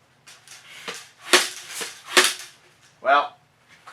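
A vintage Nerf ball blaster fires in a rapid string of sharp, close pops and snaps with a springy plastic clack between them, several shots over a few seconds, and a brief voice sound near the end.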